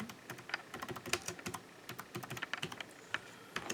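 Rapid, irregular typing on a computer keyboard, close and clear, with dense bursts of sharp key clicks and brief pauses throughout.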